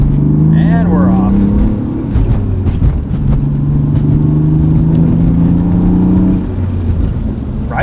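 A 1998 BMW E36 M3 sedan with manual transmission pulling away, its engine hum rising in pitch and settling as it gathers speed, heard from inside the cabin with people talking over it.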